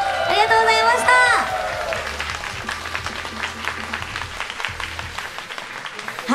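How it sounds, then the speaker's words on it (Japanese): Audience at a Vocaloid live stage night in a Tokyo club venue applauding to send off a performer, with clapping and crowd noise under a host's voice and fading music at the start. "皆さん大きな拍手でお見送りください"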